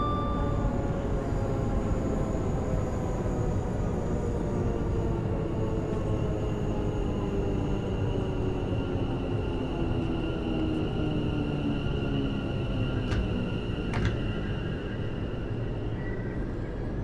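A video-game train in Train Sim World 6 rumbles steadily along the track for the whole stretch, with a constant low roar, whining motor tones and a couple of brief high squeals.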